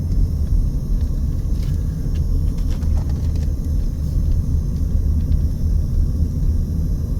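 Steady low rumble of a car driving westbound on a residential street east of the Las Vegas Strip, heard from inside with continuous road and engine noise and no speech.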